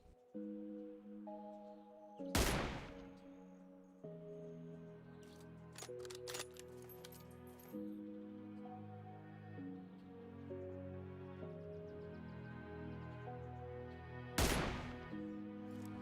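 Two loud, sharp sniper rifle shots from PUBG Mobile, fired from high ground at a target around 475 meters below, ring out at the start and near the end over a steady droning game soundtrack, with a few quicker clicks between.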